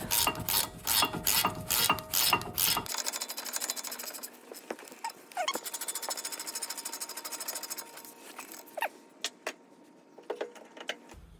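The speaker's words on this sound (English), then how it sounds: "Now I'm gonna use a power bar to tighten this." Power bar tightening a front brake bolt on a Mercedes B-Class W246 during a disc and pad replacement, giving a burst of rapid loud mechanical rattling followed by scattered clicks and ratchet ticks.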